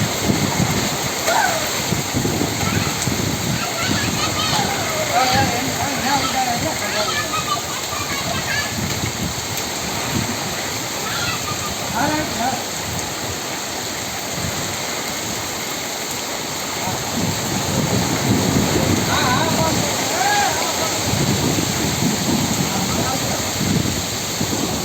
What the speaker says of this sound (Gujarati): ધમધોકાર વરસાદ ચાલુ છે। પવન પણ ખૂબ જ વહેતો છે।